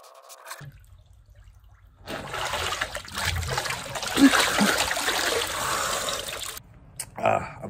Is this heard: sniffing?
no